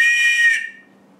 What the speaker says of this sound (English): attached to it is your signaling device, which is a whistle